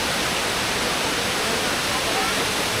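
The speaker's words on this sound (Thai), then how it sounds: "นี่นะก็คือชั้นสามนะครับชั้นสุดท้ายแล้วของน้ำตก" Continuous loud rush of the third and final tier of a waterfall in Kanchanaburi, Thailand, during the rainy season, dense broadband roar filling the whole clip with no pauses.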